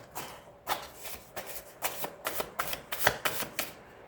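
Tarot cards are shuffled by hand in a series of crisp, riffling bursts, about a dozen quick flutters in an uneven rhythm, close and fairly quiet with no talking.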